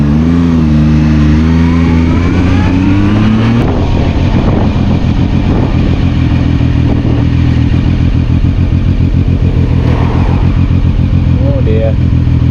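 A Zontes ZT 703 F motorcycle engine runs loud and close while riding, its pitch rising under acceleration at first and then settling into a steady drone with wind rush.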